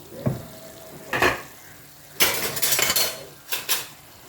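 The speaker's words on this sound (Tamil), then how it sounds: "குண்டு கரண்டி போட்டுங்க அப்படியே மசிச்சு விடுங்க" Arai keerai spinach cooked in a pan being mashed with a ladle, giving a few scraping, clinking metal strokes in separate bursts, with a longer busy stretch in the middle.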